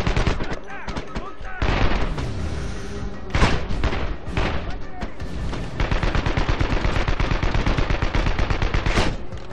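Loud sniper rifle shots from a military shooter game, several sharp cracks and booms spaced across the stretch, followed by rapid automatic-sounding fire toward the end, with a faint voice underneath.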